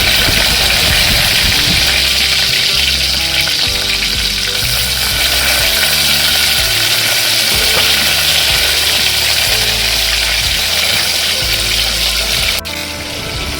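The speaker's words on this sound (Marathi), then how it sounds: "राई चांगली तडतडली" Mustard seeds crackle and spit in hot oil alongside crushed garlic and curry leaves, tempering for a Malvani sweet dal. A loud, dense, continuous sizzle runs with rapid popping throughout, and no one speaks.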